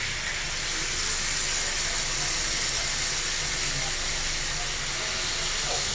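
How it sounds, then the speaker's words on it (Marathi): Fish from the coast, seasoned with lemon and garlic, frying in a pan gives a steady, loud, unbroken hiss of spitting oil that runs through the whole stretch with no pauses. "आणि फ्राय करायला टाकलेली आहे।"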